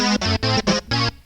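Roland JX-08 synthesizer sounding its part B patch, four short, bright, buzzy staccato notes in a quick even rhythm, close and loud with no talking.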